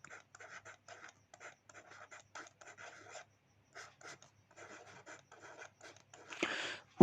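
Chalk or marker scratching across a board in repeated short strokes with brief pauses, fairly close and alone, ending in a louder rubbing burst.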